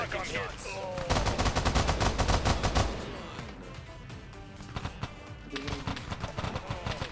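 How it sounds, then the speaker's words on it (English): Dense gunfire in a Stalker Reforged battle, rapid automatic bursts and overlapping shots rattling loudly for several seconds, then easing into scattered, more distant shooting and echoes. "They're taking fire from all sides right now."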